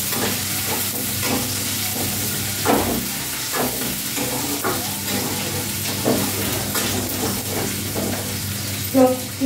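Cumin seeds sizzling steadily in hot oil in a pan, with scattered clinks and stirring scrapes over a low background hum; no talking.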